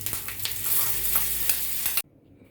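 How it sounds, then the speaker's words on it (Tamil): Hot tempering poured into a bowl of chutney, giving a brief burst of sizzling and crackling for about two seconds that cuts off abruptly into near silence. "இப்போ நம்ம தாளிப்பு நம்ம இந்த சட்னியில் போட்டுடலாம்"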